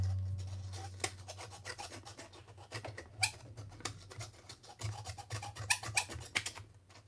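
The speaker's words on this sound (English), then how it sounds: "start sanding on that other one." Steady rasping sandpaper strokes on a small metal contact point inside a 1980s He-Man Dragon Walker toy, close and fairly quiet, with uneven scratchy rhythm and no talking.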